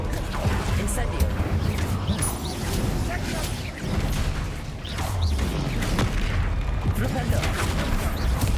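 Incendio fire spell cast repeatedly in Hogwarts Legacy during a troll fight, a dense run of booming, crackling blasts that carries on steadily under background game noise.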